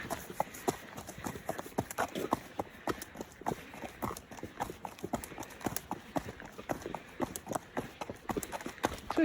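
Hooves clip-clop on a trail in a brisk, steady walking rhythm, each footfall close and clear, with faint rustling in the background and no talk.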